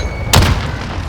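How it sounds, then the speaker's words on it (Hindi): A single loud, close grenade blast erupts in a first-person shooter match on the Sawmill map, a sharp boom with a rumbling tail that fades quickly. "बहुत अच्छे ग्रेनेड आ रहे हैं, मजा है।"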